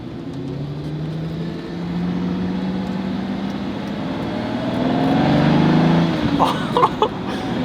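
A Lamborghini Countach 25th Anniversary with six downdraft carburetors drives along, its engine a loud steady drone heard from inside the low cabin, swelling as it pulls harder, with people talking over it near the end.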